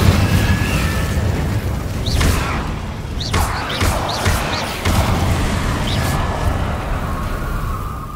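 Incendio fire spells cast in Hogwarts Legacy, producing loud whooshing bursts and booming impacts that repeat several times amid continuous magical combat noise.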